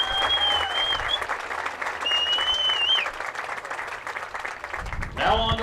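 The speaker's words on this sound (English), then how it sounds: "Big round of applause." A crowd claps steadily at a baseball awards ceremony while a faint voice talks over the sound system, and a louder burst of talk cuts in at the end.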